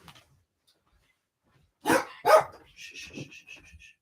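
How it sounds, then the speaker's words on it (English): A dog indoors lets out two sharp, close barks, followed by softer whimpering yips as it waits to be let outside. "Just the dog wants to get out."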